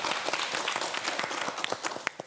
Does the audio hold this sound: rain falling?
no